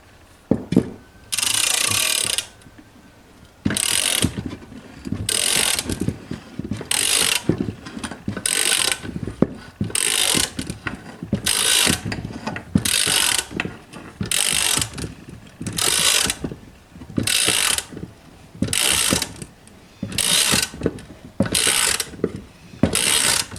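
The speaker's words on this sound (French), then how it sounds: "vous n'avez donc plus qu'à serrer la tige, ce qui va vous permettre d'insérer votre vilebrequin" A ratchet clicks in repeated bursts while tightening the rod of an Artek K2 crankshaft installation tool on a Minarelli-type engine, with close, loud mechanical ratcheting alternating with short pauses.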